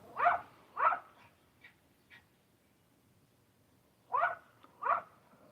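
Dogs barking outside, heard as four faint, distant yelps: two close together, a long gap, then two more, with only soft background between.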